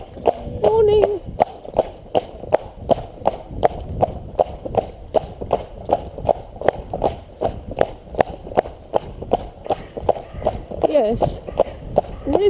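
Cob horse hooves clip-clop in a steady, even rhythm on hard ground, close by, with a person speaking briefly over the footfalls.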